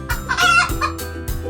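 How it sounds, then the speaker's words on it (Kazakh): Clucking from a hen and crowing from a rooster come from farm fowl, with several close, loud bursts of calls and short pauses between them, and no talk. "Тауық."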